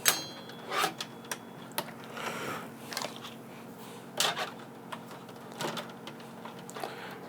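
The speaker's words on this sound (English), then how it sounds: "Okay, and then we just connect the tubes. 4 tubes, 4 colors. And they just pop in." Light plastic clicks and taps as four filament tubes are pushed into the multi-colour feed unit of an Anycubic Kobra S1 3D printer, scattered sharp snaps spread over several seconds against a quiet room hum.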